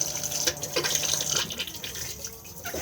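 A Thetford cassette toilet in a motorhome flushes with a close, steady rush of running water and dribbling splashes that carries on for a few seconds, then eases slightly toward the end.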